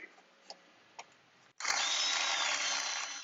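A power drill with a bit enlarges holes in carbon fiber coil pack covers. After a few faint clicks, the motor starts abruptly and whines steadily at close range until the clip ends.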